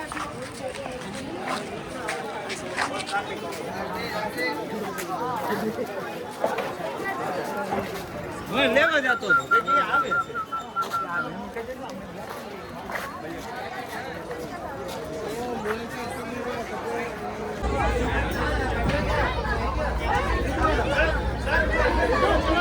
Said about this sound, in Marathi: काय गर्दी काय माणसं काय गर्दी काय माणसं